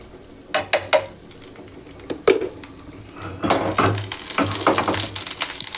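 Ghee heats in a pan for chicken dopiaza. Spoon clinks and pan knocks come first, then a steady sizzle swells and holds, close by.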